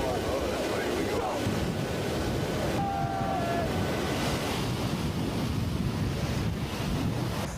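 Strong, steady wind roars across the microphone during a parachute jump from an aircraft ramp, a loud continuous rushing with no break.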